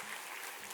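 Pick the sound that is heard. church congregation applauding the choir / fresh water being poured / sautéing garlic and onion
church congregation applauding the choir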